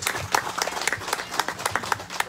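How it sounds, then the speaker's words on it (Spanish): A crowd applauding at a political rally in Mecayapan, Veracruz, with dense, steady clapping from a nearby audience lasting throughout. "Un aplauso para cada uno de los participantes."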